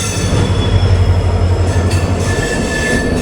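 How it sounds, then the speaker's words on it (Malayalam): Vasco–Yesvantpur Express passing on Indian railway track, a loud continuous roar of rail wagons with rumbling wheels and faint squeal, steady and close throughout. "Vasco Yesvantpur express."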